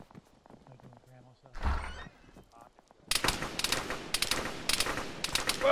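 Gunfire in the Arma military game played by ShackTac: after quieter moments with voices and a brief burst of noise, rapid sharp shots crack out in dense irregular volleys, loud and close, continuing to the end.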